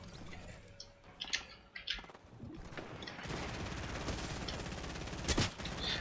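Gunfire strikes a player from behind in the video game Fortnite, with a few scattered sharp shots and clicks giving way to a sustained rapid burst of fire that stays loud and dense to the end.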